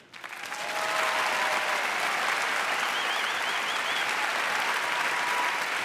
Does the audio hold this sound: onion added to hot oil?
no